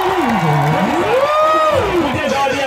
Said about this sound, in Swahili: Piga makofi na vigere vyote.